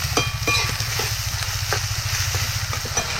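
Chopped onions sizzle and fry in a pan over a wood-fired chulha stove, a steady crackling hiss broken by soft clicks as they are stirred, with a low rumbling hum underneath.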